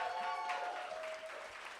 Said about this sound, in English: Let's applaud our poets.